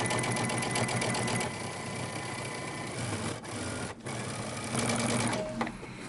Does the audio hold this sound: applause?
no